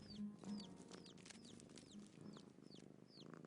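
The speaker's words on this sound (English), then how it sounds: "the mother hen makes reassuring noises to let them know she's there" A mother hen clucks softly and repeatedly to her chicks, a low steady murmur under faint high chick cheeps that recur through the background.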